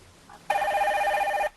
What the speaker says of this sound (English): let's let your phone ring in the new year